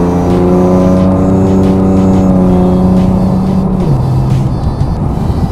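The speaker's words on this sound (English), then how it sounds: "Belt squeak's still there." A car engine revs high and steady, then drops pitch as it shifts, with a thin squealing belt whine riding over the close, loud motor.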